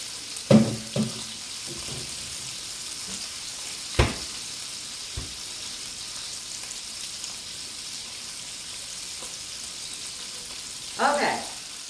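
Chicken fries in a tablespoon of lard with a steady, soft sizzle throughout, broken by a few sharp clinks and taps of utensils and a brief louder clatter near the end.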